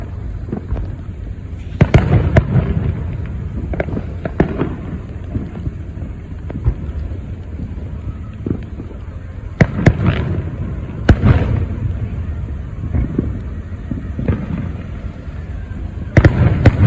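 Fourth of July fireworks bursting outdoors on a rainy, foggy night, heard as scattered sharp pops and booms at irregular intervals over a steady patter of rain.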